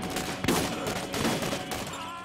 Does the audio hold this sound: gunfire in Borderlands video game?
yes